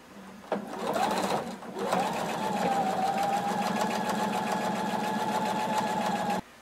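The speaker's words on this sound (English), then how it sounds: "And we're going to sew close to the edge." A sewing machine stitches bias tape close to the edge of a fringe kimono, starting with a short burst, pausing briefly, then running steadily at close range with a constant whirring hum until it stops.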